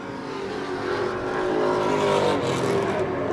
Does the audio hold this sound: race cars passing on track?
yes